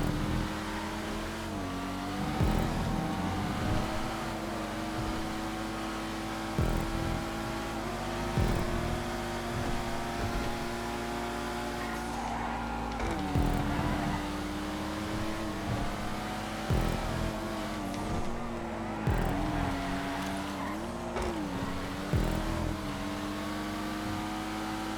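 A Pariah sports car racing in GTA 5, its engine droning steadily and loudly throughout with repeated gear-shift dips and revving swells and no talk.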